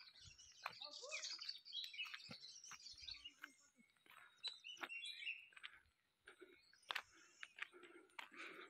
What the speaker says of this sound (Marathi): पक्षी वाटते बघा इकडे.